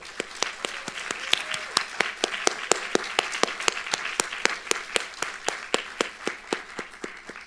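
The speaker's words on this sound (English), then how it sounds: "let's have a round of applause for everyone who supported you on this" Applause at a university nursing doctorate graduation ceremony: a large audience claps steadily and densely for several seconds with sharp individual claps standing out, fairly close, with no talking over it.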